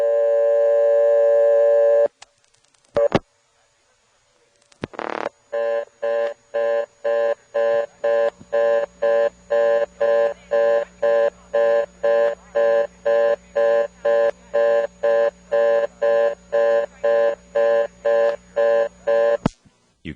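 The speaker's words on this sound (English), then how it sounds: "reorder is what you get on the 11th terminal of any of the levels of the selectors in this office" Reorder tone from a blocked step-by-step second selector in a GTE telephone exchange: after clicks and brief bursts, a rapid, steady, evenly pulsed beeping repeats loud and clear for about fifteen seconds, with no talk.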